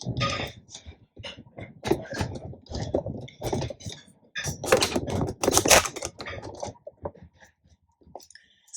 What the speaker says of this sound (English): So let's cut our material.